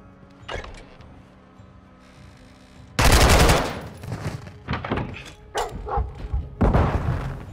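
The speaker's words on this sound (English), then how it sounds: "Guess I could fire bullets through her." Gunfire in Modern Warfare II's campaign, a few sharp shots early, then a loud sustained automatic burst followed by scattered shots and heavy thuds, close and punchy.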